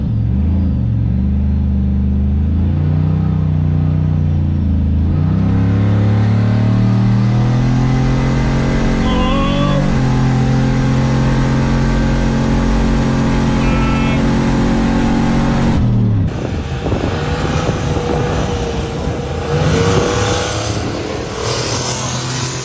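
A turbocharged 2003 Yukon XL racing a 6.2L Denali, loud engine roar climbing through gears with rising whine, a sharp change near the end as the run finishes, with voices underneath.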